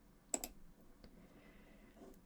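Computer mouse clicks in SPSS statistics software: two quick close clicks, then a fainter single click and a soft one near the end, in a quiet room.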